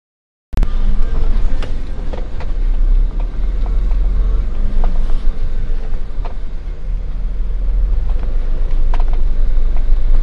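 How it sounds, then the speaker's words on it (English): Jeeps drag race at a muddy offroad park in the rain. Engines roar loudly and continuously right after an abrupt start, with rough rumbling and scattered clanks, close to the listener throughout. "So we got drag racing Jeep style now."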